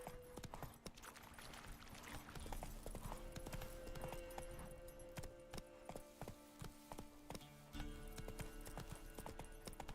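Hooves of Geralt's horse Roach in The Witcher 3: Wild Hunt, a steady galloping clip-clop over faint background game ambience, with a brief whinny-like tone near the start.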